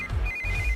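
A phone rings with a short, bright electronic tone, loud and close, with no voices over it.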